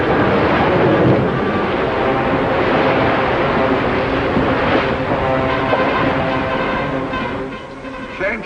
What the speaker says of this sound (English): Can't see much in this storm.